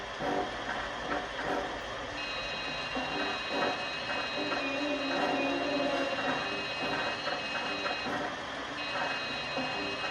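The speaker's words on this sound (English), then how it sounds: "As you move closer to the bolts, the rings will become redder and the beeping will become faster." Metal detector in the Ratchet & Clank video game beeps in a steady high-pitched tone pattern over a busy game background of mechanical hum and ambience, with no talking.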